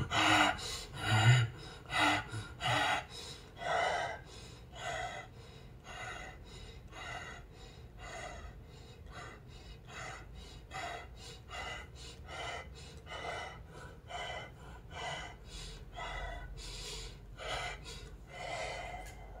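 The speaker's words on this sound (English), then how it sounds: "We're going to breathe this in." Deep meditative breathing, with a series of audible inhales and exhales repeating in a steady rhythm, louder at first and then settling into a softer, even pattern with no talking.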